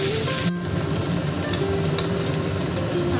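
Onions frying in a pan give a loud, continuous sizzle up close, with a handling clatter early on and small pops scattered through the steady hiss.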